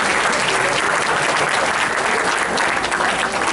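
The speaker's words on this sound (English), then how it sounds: "Let's give them a round of applause." A banquet crowd breaks into loud, sustained applause for honored guests, a thick wash of many hands clapping evenly throughout with no one speaking over it.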